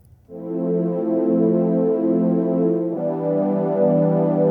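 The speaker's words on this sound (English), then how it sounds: "I used a preset called JP Strings," A sustained synth string pad using the Roland-style "JP Strings" preset holds a lush chord, swelling in softly, then shifting to a new chord about three seconds in; no voices.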